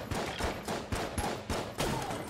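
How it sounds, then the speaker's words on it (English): Machine pistol gunfire in the video game Enter the Gungeon, rapid bursts of crackling shots repeating in a quick, steady rhythm, loud and close without talk. "maybe we should use the machine pistol, because the machine pistol might have a greater chance of freezing with more bullets"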